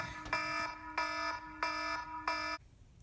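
A home alarm system sounds four evenly spaced electronic beeps, each a steady harmonic tone held about half a second, clear and alone in a quiet room.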